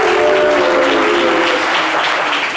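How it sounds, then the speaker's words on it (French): Loud, dense audience applause and cheering on a French TV variety show as the guest Paco Yao makes his entrance with his fan club, steady and sustained throughout. "Est-ce qu'on peut applaudir Paco Yao?"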